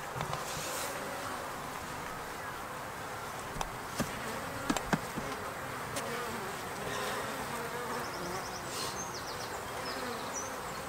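Honeybees buzzing steadily as they fly in and out of a busy hive entrance in late spring, a dense continuous drone with occasional louder passes of individual bees close by.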